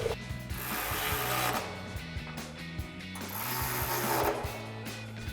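Ratchet with a 13mm socket tightening bolts on a Body Armor 4x4 Ambush XT Series front bumper for a 2010-2018 RAM 2500, giving a steady run of close, rapid clicking strokes in short bursts.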